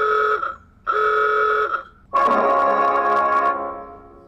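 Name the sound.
Tesla Boombox old horn replacement horn sound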